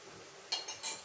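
A spoon clinks quietly against a cooking pot while onion and garlic are stirred, three quick metallic taps in the second half after a faint, soft background.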